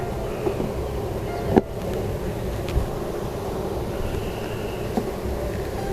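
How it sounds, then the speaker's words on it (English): Honey bees buzz around a hive box being rehomed, a low steady hum close by with a few soft knocks and handling bumps, no talking. "So I have the first box of bees."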